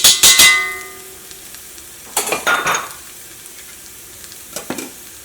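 Coriander powder fries in oil in a pan for an egg puff filling: short bursts of sizzling and spoon-on-pan scraping come in separate clusters, with quieter frying between them.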